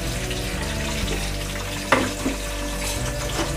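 Chillies fry in a pan for a village-style chicken curry, giving a steady, close sizzle with a few light clinks of stirring.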